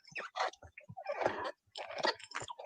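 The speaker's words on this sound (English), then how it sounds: "Dogs love to chew." A dog chewing a bone-shaped chew toy: close, quiet bursts of gnawing, crunching and gummy biting in uneven clusters with brief pauses between them.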